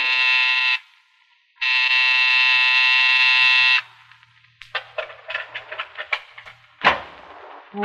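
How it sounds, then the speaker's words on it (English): A harsh, growling electric night buzzer at the door of an office building sounds in two long, loud blasts with a brief gap, followed by scattered clattering and knocking noises. "when you pressed the night buzzer, it growled at you"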